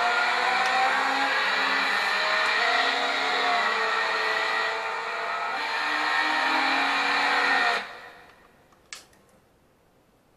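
A fully modified Ford Ka with a small 1.3-litre engine revs in Gran Turismo 2, a loud steady engine drone held for several seconds before cutting off sharply, followed by quiet and a faint tick.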